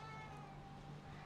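A cat meows faintly in a quiet room, a single soft cry against a steady electrical hum.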